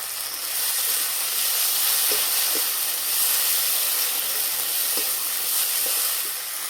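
A ground paste of cumin, coriander and ginger with garlic paste sizzles hard in hot oil among fried onions, a loud steady hiss with faint stirring scrapes now and then.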